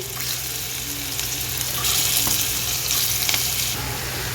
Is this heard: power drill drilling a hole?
no